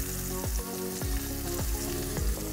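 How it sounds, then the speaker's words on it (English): Short ribs sear in a pot with a loud, continuous sizzle, broken by a few rhythmic scraping stirs, close and with no voices. "When you're searing something, it's all about your heat control."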